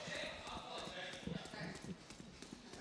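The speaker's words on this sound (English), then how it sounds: "Footsteps, potential." Faint footsteps in the video game Valorant tap in quick, irregular steps under a commentator talking.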